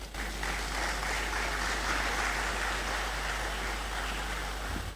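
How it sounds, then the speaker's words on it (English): Sustained audience applause at a university anti-drug campaign launch, dense steady clapping filling the room throughout without pause. "let's keep the applause going."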